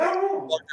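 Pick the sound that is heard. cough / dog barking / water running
dog barking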